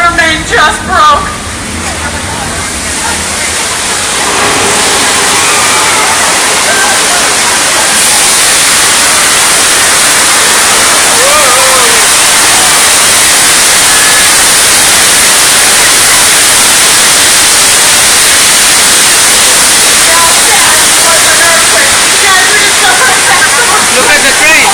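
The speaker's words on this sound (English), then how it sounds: "The water main just broke." Water gushing loudly and steadily from a broken water main, a dense continuous rushing roar filling the scene from start to finish with faint voices under it.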